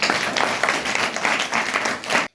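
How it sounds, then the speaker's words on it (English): An audience claps together at an event marking India's Chandrayaan lunar mission, steady applause of many hands that fills the whole short stretch and then cuts off abruptly at the end. "Have a clap for Sameer."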